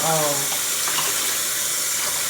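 Tap water runs steadily from a faucet into a sink as a constant, loud, close rush that fills the whole stretch, with no voices over it.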